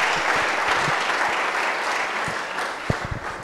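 A church congregation at a Sunday service applauds steadily throughout, a dense wash of clapping hands with a few louder individual claps standing out near the end.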